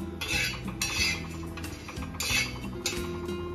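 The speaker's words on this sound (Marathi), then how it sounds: "लाल मिरची, जिरे, लवंगा, मिरे, कर्णफूल, इलायची सगळं थोडस भाजून घ्यायचं आहे." Red chilies, cumin, cloves, peppercorns, star anise and cardamom are dry roasted in a pan, heard as quiet metallic scrapes and clinks of a utensil stirring against the pan in short, uneven bursts.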